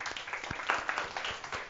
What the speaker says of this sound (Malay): bagi tepukan.